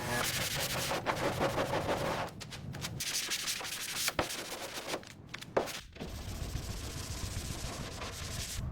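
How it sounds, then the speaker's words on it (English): Continuous rough sanding of primer on a car body scrapes against the hard surface in long strokes, with a few brief pauses and knocks between passes. "We're starting the final sanding process now, making sure the surface is absolutely uniform before we apply the military green"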